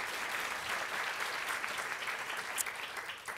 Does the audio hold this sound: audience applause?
yes